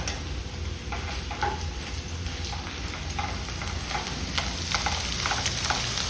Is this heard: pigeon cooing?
no